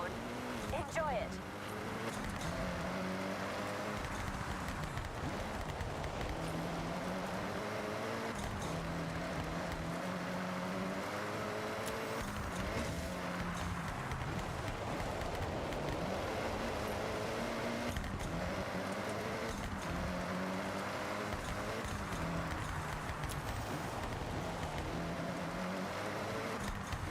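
A car engine with a big blow-off valve in the Forza Horizon racing game: a continuous, loud mechanical drone that rises and falls in pitch as it revs, sustained over nearly half a minute.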